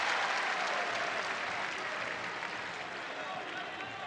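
A crowd at a college wrestling match between Nebraska-Kearney and Iowa State applauds with a steady wash of clapping that slowly fades, under a commentator's voice.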